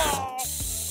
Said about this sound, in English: Let's defeat the bad viruses by spraying medicine!